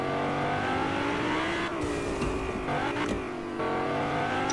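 A taxi car in the Fortnite video game drives fast with a loud, continuous revving engine that rises and shifts, along with scraping and tire noise over grass.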